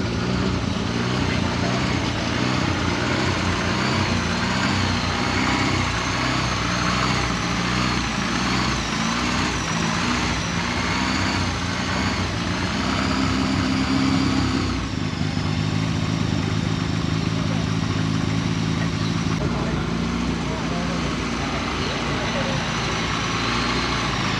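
A car's engine idles steadily to warm up at a car meet, a continuous close rumble that holds through the whole stretch with faint background voices.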